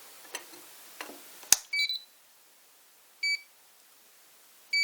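An FrSky RC radio transmitter gives a few short electronic beeps as it is switched on for binding, preceded by faint clicks and a sharp button press, in a quiet room.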